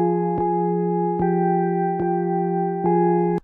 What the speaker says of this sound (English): From here, I added this mid-drone.